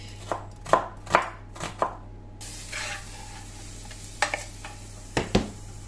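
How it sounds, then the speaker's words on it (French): A knife slicing an onion on a cutting board, several crisp rhythmic chops close by, then a brief rustle and a few more cuts after a pause. "je commence par, comme d'habitude, trier mon oignon, le peler, le laver et l'émincer"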